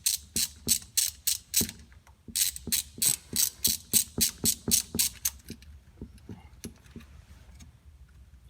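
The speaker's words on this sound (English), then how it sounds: "just a 1/4" ratchet, onto the old trans temp sensor and loosen it." A 1/4-inch ratchet with a 10mm deep-well socket loosens the transmission fluid temperature sensor on a Kia Optima, making close, rapid bursts of clicking strokes in a steady rhythm that slow and fade toward the end.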